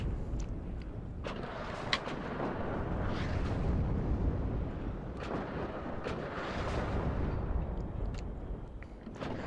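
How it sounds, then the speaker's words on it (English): Howitzer and mortar shells exploding in the WARNO battlefield video game, a continuous rumbling barrage of distant booms with sharper cracks scattered through, heavy and low. "And I'm sort of wasting howitzer shells there."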